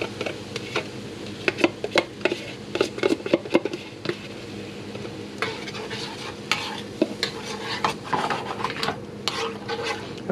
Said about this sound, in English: baste the eggs with the oil to get that more fried flavor to cook up the egg whites